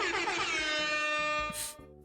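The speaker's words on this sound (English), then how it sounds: "And he has epic air horn." A loud, sustained air horn blast in a video game, with rich harmonics that holds steady, then cuts off sharply near the end, followed by a brief hiss.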